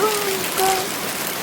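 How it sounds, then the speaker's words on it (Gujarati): Rain falls in a steady, even wash of hiss, with faint tonal sounds drifting over it in the background. "અને વરસાદ તો જો"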